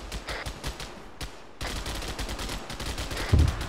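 Rapid, dense machine-gun bursts in Arma 3 during a 10th ODST squad operation, loud and sustained throughout, with sharp overlapping reports and a heavier thump near the end.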